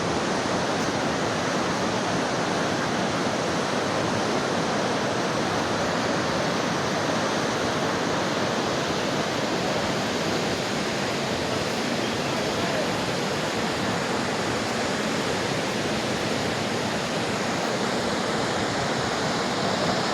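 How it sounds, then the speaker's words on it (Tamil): The Saraswati river rushes along in the mountains as a loud, continuous, dense roar of water, steady and close throughout with no breaks. "சரஸ்வதி நதி வந்துக்கிட்டு இருக்கு பாருங்கள்."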